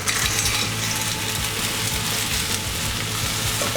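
Clams cooking in a pan of extra virgin olive oil with garlic and parsley give off a constant loud sizzle, with faint scraping and clinking of shells stirred in the hot oil throughout.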